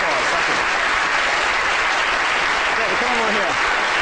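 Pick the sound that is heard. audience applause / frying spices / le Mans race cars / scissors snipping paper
audience applause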